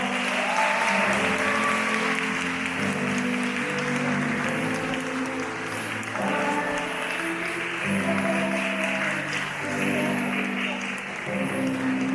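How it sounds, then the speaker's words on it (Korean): Wedding guests applaud steadily as the couple enters, a broad sustained wash of clapping that holds through the whole stretch with music underneath. "큰 박수 부탁드립니다."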